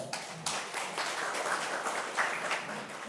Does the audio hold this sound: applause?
yes